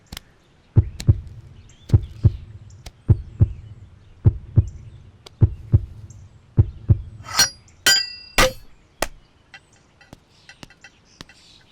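A heartbeat sound effect in a Tamil-dubbed action love drama film gives a steady run of deep, evenly spaced thumps, about a dozen beats. Near the end, bright glassy chimes and clinks join in, with no talking.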